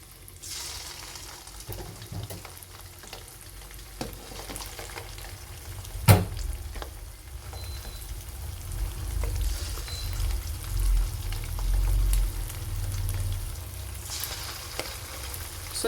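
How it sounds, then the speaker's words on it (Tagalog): Pork meatballs brown in a hot frying pan with a steady, close sizzle, one sharp clack partway through, and the frying swelling a little louder later on. "ipa-pan fry na po natin ang ating bola-bola."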